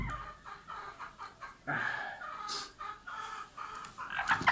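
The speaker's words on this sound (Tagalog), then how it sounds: "Ito po yung ating manok na may limbernick" Chickens cluck repeatedly in short rhythmic bursts, fairly close, one suffering from limberneck, with a louder squawk partway through and busy background clucking.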